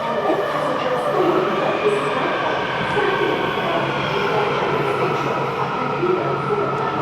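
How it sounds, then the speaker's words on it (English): A brand-new train arrives at a station, its steady loud rumble and broadband roar filling the whole stretch without letting up, with no voices on top. "Here comes my train."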